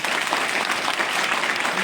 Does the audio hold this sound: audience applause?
yes